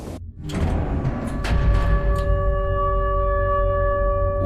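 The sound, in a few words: train running and stopping in Garten of Banban video game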